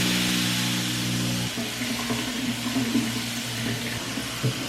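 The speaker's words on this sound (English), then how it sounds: "First I'm just gonna rinse it out normal." Running tap water rinses out a container with baking soda and dish soap at hand, a steady broadband rush that shifts as an appliance hum drops out partway, continuous and close.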